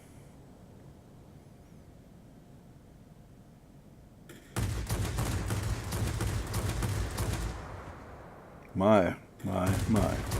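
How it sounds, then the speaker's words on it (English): After several seconds of low engine drone, the guns of a MiG-9 jet in a flight game open up in a loud, continuous roar, cut off briefly before two more short bursts. "There's one thing about these guns, they will definitely tell you when you're on and off."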